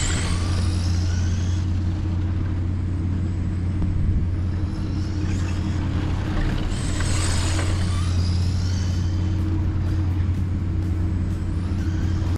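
A Team Associated SR10M RTR electric RC dirt oval car runs laps around a dirt track, giving a steady continuous whirring drone with low rumble that rises and falls slightly as it passes, heard alone without talk.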